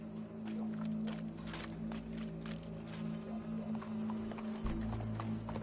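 Horse hooves clip-clop at a walking pace in Red Dead Redemption 2, a soft, irregular series of hoof falls over a steady low hum, quiet and somewhat distant.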